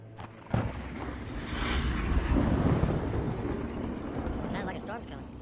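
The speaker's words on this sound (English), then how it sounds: "Sounds like a storm's coming." A thunderstorm approaches with a deep rolling rumble that swells loudly through the middle and then lingers, and a voice can be heard faintly beneath it.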